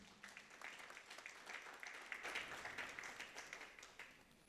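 Faint, distant applause from an audience at an opening ceremony in Conakry greets a colleague and his collaborators, a soft, uneven patter of many hands that swells slightly midway.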